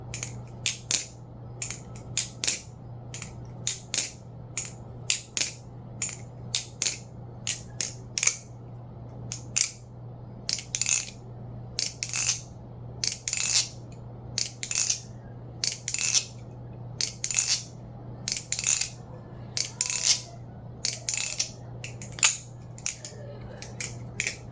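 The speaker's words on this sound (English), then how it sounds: "So here's the sound test of the Bionic OSI" An aluminum Bionic OSI balisong is flipped dry without lube, giving rapid bursts of sharp metallic clicks and clacks in an irregular rhythm, close and crisp over a faint steady hum.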